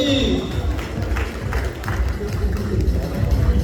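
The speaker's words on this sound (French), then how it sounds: "Il faut applaudir, il faut applaudir." Audience applauding at an award and recognition ceremony, a dense patter of clapping from a crowd, moderately loud, with a voice speaking over it throughout.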